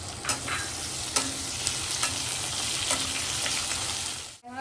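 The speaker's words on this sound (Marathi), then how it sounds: "कांदा घालून आता थोडा मऊ होईपर्यंत शिजवून घेतो" Onions sizzle steadily in a pan of hot oil with curry leaves, garlic and green chillies, for jackfruit bhaji, with a few sharp stirring scrapes standing out over the constant frying hiss.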